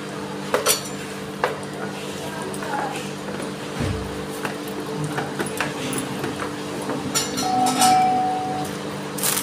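Banana flower paste is mashed and mixed with roasted cumin powder in a dish, giving soft close scraping and occasional clinks of utensil on the bowl over a steady low hum.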